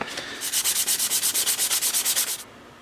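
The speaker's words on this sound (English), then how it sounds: "Every time you keep sanding it with the finer sandpaper" Sandpaper rubbed by hand over a display base, a steady run of about fifteen even back-and-forth rasping strokes, close and fairly loud, then stopping abruptly.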